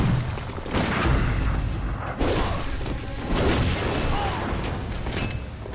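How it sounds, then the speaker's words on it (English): Heavy booming shotgun blasts in the game Bloodborne, a few loud discharges spaced a second or two apart amid gritty combat noise, with a faint voice underneath. "That shotgun is brutal."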